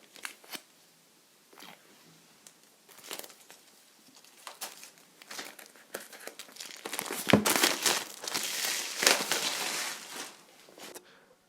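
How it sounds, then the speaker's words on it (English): Plastic wrap is peeled off iPad Magic Keyboard packaging, with crisp crinkles and tearing rustles in irregular bursts that build to a denser crackling stretch, close and fairly quiet. "let me finally unwrap the plastic onto the packaging in a very satisfying way"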